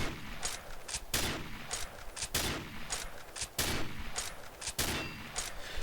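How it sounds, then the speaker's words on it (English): A Tango 51 sniper rifle in the Combat Arms video game fires again and again in a steady rhythm. Each sharp, loud crack is followed by the clack of the bolt being worked. "the Tango 51 has a different firing noise and a different bolting noise as compared to the M24"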